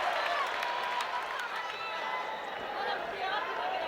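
A crowd at an MMA event roars and murmurs as two fighters grapple on the mat, a steady wash of arena noise with scattered cheers and shouts throughout.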